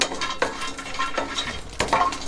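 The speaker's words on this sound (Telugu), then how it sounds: "పచ్చి కొబ్బరి తీసుకున్నా వేయించుకుంటున్నాను" Fresh grated coconut being roasted in a pan, with a spatula scraping and stirring against the metal and a soft dry sizzle, the strokes coming in an irregular rhythm.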